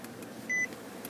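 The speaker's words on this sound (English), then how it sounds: "That constant beeping was driving me a little bit crazy." A single short electronic beep from a JVC KD-R80BT car stereo sounds once over a quiet background hum.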